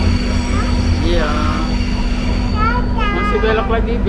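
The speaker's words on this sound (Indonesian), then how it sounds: "Kereta apinya masih belok ke kanan." A light rail (LRT) train running between the airport station and Bumi Sriwijaya station rounds a sharp curve near 90 degrees, a steady loud rumble with a constant low hum and a faint wheel squeal, while people talk over it.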